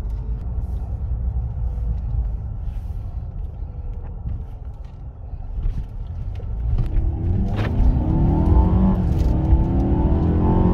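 A Mercedes CLA 250 AMG rumbles along at close range, then its engine note climbs steadily as it accelerates down a short straight.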